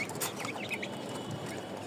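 Two Fayoumi roosters clucking and chirping in short bursts while feeding, with steady farmyard noise behind them.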